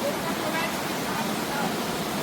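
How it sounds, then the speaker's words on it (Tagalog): River water at an eco park rushes in a steady, broadband wash, close and constant, with no clear voices over it. "Ito yung ilog na."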